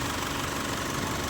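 An Isuzu 4HL1 diesel engine in an Elf truck runs after its injectors were recalibrated, balanced and cleaned, giving a steady, dense idling rumble with a faint knock, loud and close throughout a brief burst.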